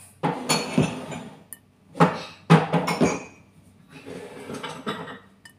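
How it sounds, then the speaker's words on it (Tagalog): Glasses, plates and bowls (three glasses, two plates, two bowls) clink and clatter as they are handled, in several close, sharp bursts separated by short pauses. "3 baso, 2 pinggan, 2 mangkok"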